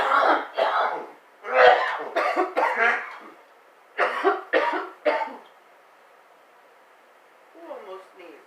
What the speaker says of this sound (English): Who almost sneezed and coughed at the same time?